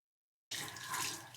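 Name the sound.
hot water running from tap for brush cleaning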